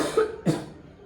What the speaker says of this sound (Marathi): खोकलून घ्या